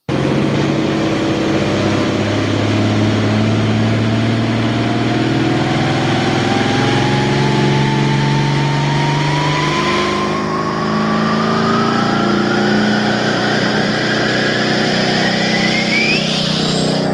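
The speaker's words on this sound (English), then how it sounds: "Her tractor on the dyno." A pulling tractor engine runs under load on a dyno, loud and continuous, its pitch climbing steadily over many seconds into a high wail before easing near the end.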